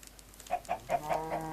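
Minecraft chickens cluck in a short run of five or six evenly spaced, close clucks, clear and alone with no talk.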